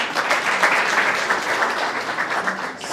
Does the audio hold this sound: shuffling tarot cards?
no